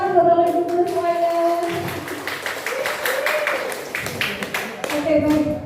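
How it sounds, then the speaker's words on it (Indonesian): A gathering of teachers in a Jakarta teacher-training session claps in scattered bursts while voices carry on over the clapping. "Tepuk tangan buat Bapak Ibu guru semuanya."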